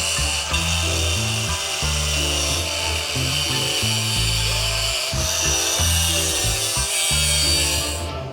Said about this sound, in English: it's going to be sitting here with my cutoff wheel, my grinder here, trying to get it as straight as possible